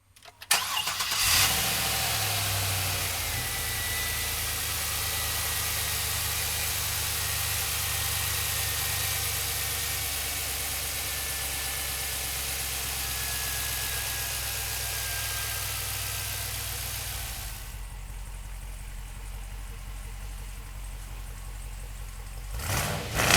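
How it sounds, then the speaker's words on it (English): A 1971 GMC Jimmy with a rotisserie restoration and an LS3 engine cranks and catches right away, then settles into a steady, loud, close idle for about twenty seconds before shutting off, with no talking. "So come on up and we'll fire it up for you right now."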